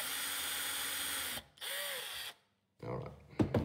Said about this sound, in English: So I made a little drill hole.